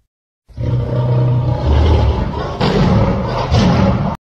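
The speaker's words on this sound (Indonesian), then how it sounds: "Singa." A lion gives a loud, close roar that starts abruptly and holds for several seconds, with a deep rumbling body and a second surge partway through.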